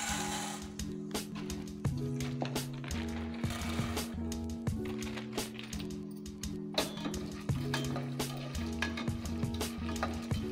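Popcorn kernels heat in a few spoons of flavourless sunflower oil inside a pressure cooker, a faint steady sizzle and light crackling with occasional soft stirring.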